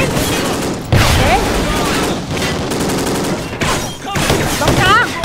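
Dense gunfire bursts in the shooter game Call of Duty Ghosts, rapid and loud throughout, mixed with game chatter and effects, with dips around one and four seconds.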